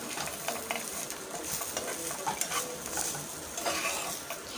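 Drumstick greens being stirred with small fried onions in a pan, a soft, quiet scraping and rustling with faint sizzle and light utensil clinks throughout, no voices.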